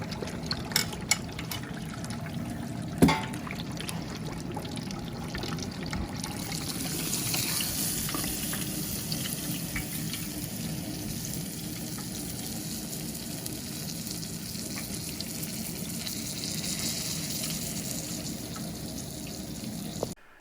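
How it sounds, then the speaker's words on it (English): Prime rib deep frying in a pot of hot oil outdoors, a steady dense sizzle and bubbling that runs unbroken throughout at moderate level, with one brief sharp knock early on. "Now you're going to fry this at 4 minutes a pound for a medium to medium rare"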